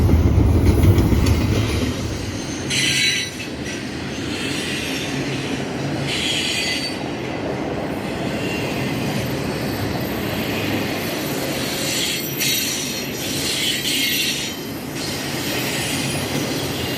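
A train rumbles past loudly and steadily, with high metallic wheel squeals rising and fading over the continuous roar.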